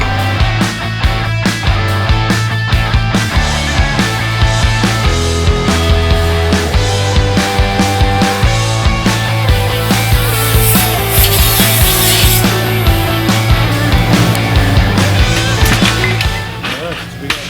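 Continuous power sanding of a metal frame in a workshop, a steady loud grinding rasp lasting over seventeen seconds, with a constant low motor drone and a brief brighter hiss partway through.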